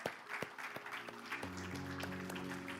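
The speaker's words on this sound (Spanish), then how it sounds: "demos palmas al Señor" A church congregation claps for the Lord at a Sunday service, scattered hand claps joined by a sustained musical tone partway through, moderately distant.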